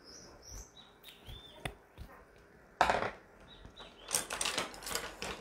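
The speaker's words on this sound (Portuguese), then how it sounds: "os passarinhos estão aqui junto com a gente na live" Small birds chirp and twitter in trees near a house, high thin calls scattered throughout, with a denser burst of chirping toward the end, alongside brief clicks and rustling nearby.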